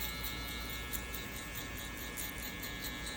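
Electric hair clippers with the lever fully open cut hair down to a short number 1 guard length during a burst fade, giving a steady, close mechanical buzz with a constant hum throughout.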